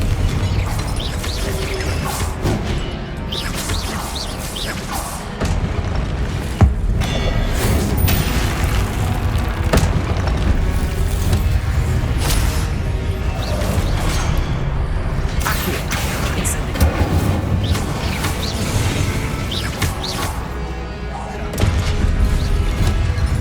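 Confringo blasting-spell explosions in the video game Hogwarts Legacy, a dense, continuous run of booms, crashes and whooshes with repeated impacts throughout, loud and busy with no pauses.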